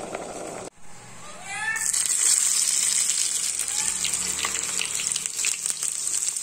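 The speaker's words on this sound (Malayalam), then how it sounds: "നന്നായി തിളച്ചിട്ടുണ്ട്." Papaya pachadi curry boiling in a pot in a home kitchen, a steady close bubbling and simmering hiss that runs on without pause after a brief quiet start.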